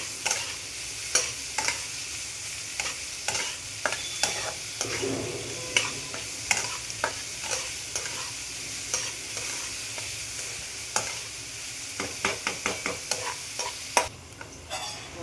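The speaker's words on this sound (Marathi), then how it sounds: "सोनेरी कलर वर कांदा भाजून घेऊया" Chopped onion frying in a pan until golden, with a steady sizzle under repeated sharp scraping clicks of a spatula stirring, close and fairly loud, no talking.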